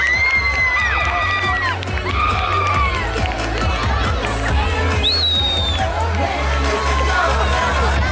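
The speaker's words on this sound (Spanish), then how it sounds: "¡Un aplauso para ella!" Schoolchildren at a race awards ceremony cheer and shout for a female prize winner, a dense, loud wash of high voices and whoops with some scattered claps mixed in.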